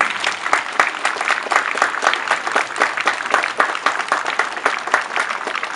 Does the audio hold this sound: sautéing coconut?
no